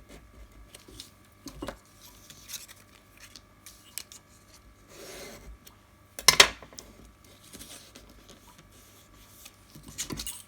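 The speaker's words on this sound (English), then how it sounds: "And now we can score those lines." Cardboard being scored along marked lines while building a miniature cupboard: a few short, dry scraping strokes separated by quiet pauses, close and fairly soft, with no talking.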